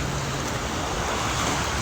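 Heavy rain flooding streets in Jeddah, heard as a steady, loud broadband roar of rushing water and downpour with no break.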